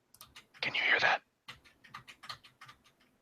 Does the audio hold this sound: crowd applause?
no